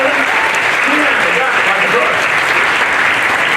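Loud, dense applause from a theatre audience at a live stage show, a continuous roar of many hands clapping with cheering voices mixed in, steady throughout.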